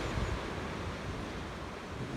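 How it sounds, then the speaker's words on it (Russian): A small storm on the sea at the Cape Aya reserve in Crimea, with strong wind and high waves: a steady, fairly faint roar of surf blended with wind buffeting. "Сейчас вот мы наблюдаем шторм на море, небольшой такой."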